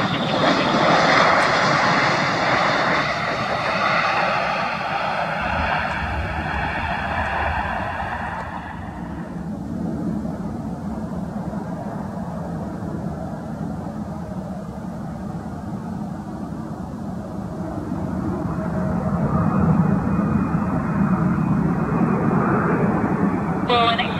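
An airplane roars loudly as it takes off from Vancouver airport, the engine noise dominating and shifting in pitch as it climbs away, with a radio voice talking over the sound.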